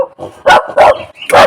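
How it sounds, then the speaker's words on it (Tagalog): A dog barks three times, loud and close, each sharp bark spaced roughly a third of a second apart, preceded by a couple of softer, whiny yips. "Mayroon ako isang aso na kumaarte."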